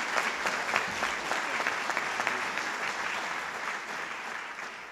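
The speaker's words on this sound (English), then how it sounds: "let's give them all a round of applause if you will" Steady, dense audience applause for award recipients at a state governor's excellence ceremony, many hands clapping at even loudness throughout.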